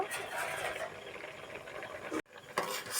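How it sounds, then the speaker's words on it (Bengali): Boiled potatoes being drained from a pot in a home kitchen, a steady watery rush and clatter of metal for about two seconds before a sudden stop, then a brief clink. "ছেঁকে নিচ্ছি আলু সিদ্ধ হয়ে গেছে"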